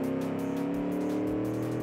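The engine of a 1970 Italian car runs at a steady, loud, smooth drone with a strong tonal hum, close and continuous throughout, with faint rhythmic pulsing and no talking.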